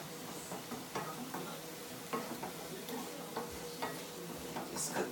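Tuna mixture for a tuna casserole cooking in a pan, with a steady low sizzle under repeated scraping and stirring knocks from a utensil, close and moderately quiet.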